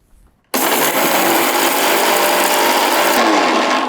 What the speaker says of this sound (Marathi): हे मिक्सरला एकदम बारीक याची पोड करूयात